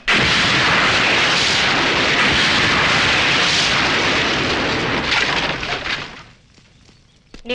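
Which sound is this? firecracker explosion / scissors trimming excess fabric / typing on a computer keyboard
firecracker explosion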